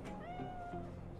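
A cat in the Cyberpunk video game gives a single short, close meow, clear and alone.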